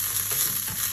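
Paprika and olive oil fry in a pan with onion: a dense, continuous sizzle close up, with faint stirring scrapes underneath and no talking.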